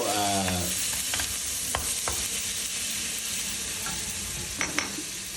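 Fresh shrimp hit a hot pan and fry with a loud, continuous sizzle, a few sharp spatters and clicks popping out over the steady hiss, heard close with no speech.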